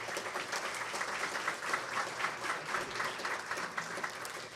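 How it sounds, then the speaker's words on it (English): Banquet audience applauding the Hall of Fame committee at a college athletic awards dinner, a steady, dense round of clapping from a full room that holds evenly throughout with no talk over it. "Please give them your round of applause."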